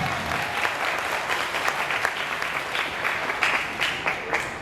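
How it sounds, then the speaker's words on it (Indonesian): Hundreds of university students applauding in a lecture hall after a national-awareness lecture, a dense, even crowd clapping that holds steady throughout. "Tepuk tangan dulu."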